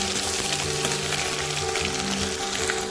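Garlic fries in hot oil with crushed whole garam masala and torn dried red chillies, a dense, steady sizzle filling the pan continuously at close range with no voices.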